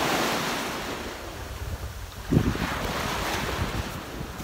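Waves wash in at Horseshoe Bay beach on Bowen with gusting wind buffeting the microphone, a continuous roar of surf and wind with one louder breaking swell midway and no voices.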